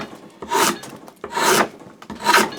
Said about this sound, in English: let's just grab a piece of pine and we'll take some shavings